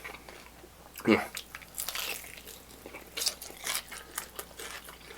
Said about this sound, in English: Every time I chew it, whatever the hell wing this is, still delicious.